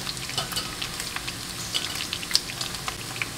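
Spices sautéing in freshly rendered pork fat for Bisaya humba, a steady crackling sizzle with scattered sharp pops and a few stirring scrapes, moderately close and without talk.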